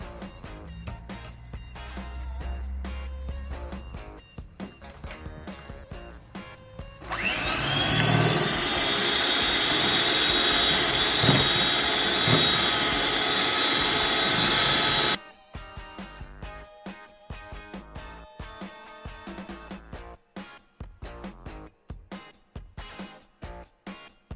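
An electric mixer whirs loudly and continuously for several seconds while it beats chocolate cake batter in a bowl. Quieter clinks and handling noises come before and after the whirring.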